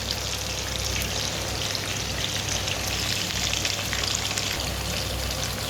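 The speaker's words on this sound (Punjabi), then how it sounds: "ਪਿਆਜ਼ ਸਾਡੇ ਕਾਫੀ ਦੇਰ ਪੱਕ ਚੁੱਕੇ ਨੇ ਬਰਾਊਨ ਹੋ ਚੁੱਕੇ ਆ" Onions fry in a pan until brown with a soft, steady sizzle that crackles evenly throughout, faint and unbroken.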